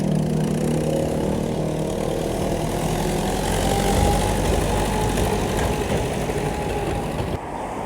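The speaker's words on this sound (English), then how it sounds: "This gentleman just pulled a boat out with a tractor." A steady, loud tractor engine drones close by on Jomtien Beach, Pattaya, after pulling a boat out of the water, its low rumble holding an even pitch for several seconds before dropping slightly at the end.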